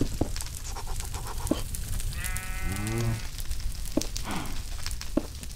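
Baby cow in the Minecraft video game giving a short wavering moo, a single clear bleat-like call among clicks and game noises.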